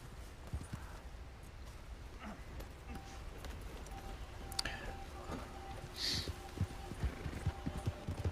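Faint clip-clopping horse hooves in the video game Red Dead Redemption (RedM), a soft irregular patter against a quiet, hissy background.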